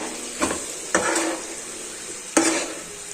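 Spice masala and red chillies sautéing in oil over a low flame, a soft steady sizzle broken by three distinct bursts of louder scraping and stirring in the pan.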